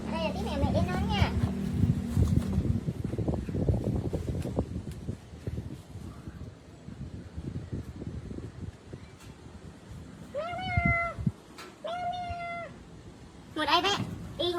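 A kitten meows in a series of high, rising cries, a few early on and a clearer cluster of three or four toward the end, with children's voices and chatter underneath at the start.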